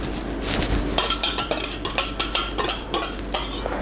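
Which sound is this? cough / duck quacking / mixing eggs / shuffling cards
mixing eggs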